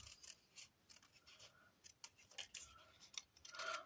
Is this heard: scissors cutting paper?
yes